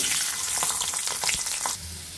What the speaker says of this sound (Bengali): আমাদের রসুন গুলো ভাজা হয়ে গিয়েছে